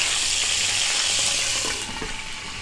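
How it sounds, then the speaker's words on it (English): Sausages frying in a pan with oil, a steady close hiss and sizzle that eases slightly near the end, with faint clinks as they are moved. "I'm going to take our sausages out of the pan."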